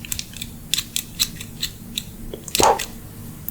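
Scissors cutting thread, a run of crisp close snips with small metallic clicks, ending in a louder snip near the end, with no voices.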